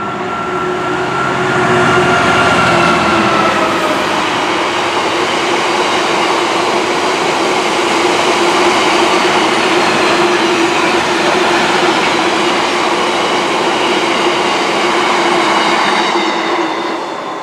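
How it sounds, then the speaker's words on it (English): A long freight train hauled by Class 290 locomotives rumbles past close by, a steady loud roar of wagons with faint clatter and a high squealing tone running through it. "That last freight train with the 290s on did caught me out a little bit"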